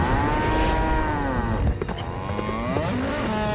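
A cartoon cow transformed into a super cow lets out loud, drawn-out moos that rise and fall over a busy background of animated action sound.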